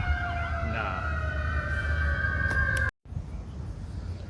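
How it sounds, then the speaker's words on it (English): Emergency vehicle sirens wail with rising and falling tones as they pass nearby over steady road rumble, cutting off abruptly before a brief gap and continued traffic noise. "I had to wait till all the sirens and stuff cleared up."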